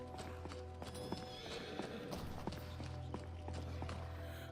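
A horse in a stable stall in the video game Skyrim VR, with steady hoof clip-clops and a neigh over a constant low game hum.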